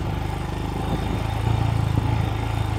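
A Royal Enfield Scram 411 motorcycle rides in first gear, its engine giving a close, steady low thumping rumble with regular pulses and slight swells in loudness, no talking over it.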